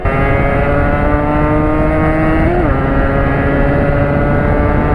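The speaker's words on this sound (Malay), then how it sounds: "Motor ada knocking lah kan. Motor ada knocking sikit." A Yamaha RXZ motorcycle engine runs steadily and loudly throughout, its constant drone carrying a faint irregular knock, with a brief pitch dip midway.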